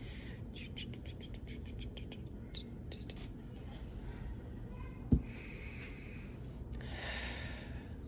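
Birds chirp in scattered bursts over a steady low rumble of background noise, with one sharp knock partway through.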